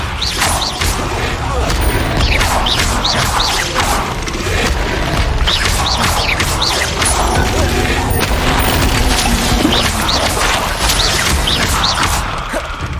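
Spell explosions from Confringo and Bombarda blasts in Hogwarts Legacy, played with mods, make a loud, continuous barrage of booms, crashes and crackling impacts across the whole stretch, with no pauses.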